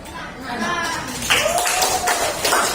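A class applauding a student group, a dense wash of clapping that fills the short stretch, with chatter and voices mixed underneath.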